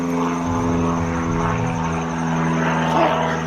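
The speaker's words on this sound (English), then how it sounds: "it's always some plane that's just flying in circles" A small propeller airplane circling overhead: a steady, droning buzz of engine and airscrew that holds constant throughout, fairly loud and alone with no talk.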